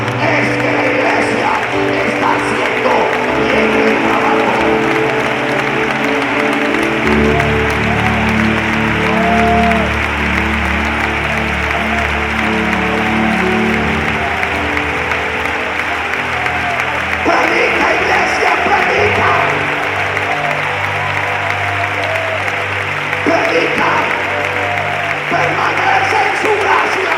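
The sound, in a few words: congregation applauding in church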